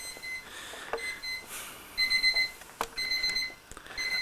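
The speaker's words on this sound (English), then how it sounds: "It's my alarm to say wake up in case I fell asleep." An alarm beeps in repeated short bursts to wake a sleeper, on an overnight train journey through Moscow, faint and close in a quiet room with a hiss behind it.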